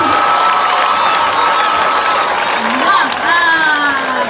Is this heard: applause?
yes